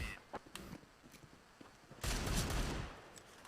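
Gunfire in a shooter video game: several sharp shots crack out early, followed by a louder sustained burst of firing, moderately loud with no talk over it.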